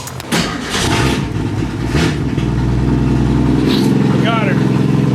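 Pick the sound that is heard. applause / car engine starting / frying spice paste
car engine starting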